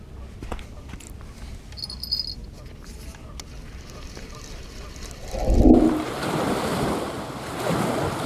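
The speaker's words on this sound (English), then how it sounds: "Wind picked up." Wind blows over a big lake, a steady rush of noise against the microphone that swells into a louder, rougher gust near the end. Water laps along the bank underneath.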